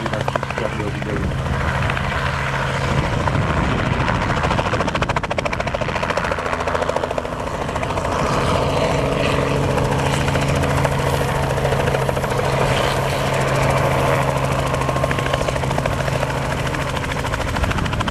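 A Robinson R44 helicopter flies a dynamic demonstration at an airshow in Poprad in 2011, its rotor chop and engine drone steady and loud for the whole stretch, with a constant low hum and crowd noise beneath.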